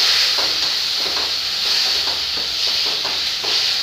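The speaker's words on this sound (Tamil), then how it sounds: "தக்காளி இந்த அளவுக்கு வர வரைக்கும் நல்லா வதக்கிக்கோங்க" Tomatoes sauté in a hot pan of oil for a quail gravy, giving a steady close sizzle and hiss with soft scraping stirs recurring every half second or so, and no talking.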